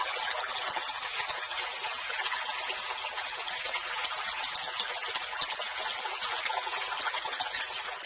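A babbling stream rushes and trickles continuously at close range, a dense, steady hiss of running water with no pauses and no voices.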